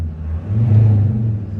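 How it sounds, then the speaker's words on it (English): A Land Rover Discovery with a slightly non-standard TD5 diesel engine revs once, a low rumbling swell that rises and holds briefly before easing, heard close with no talk. "Let's give this a rev, and you can hear, hopefully, my slightly non-standard TD5 engine"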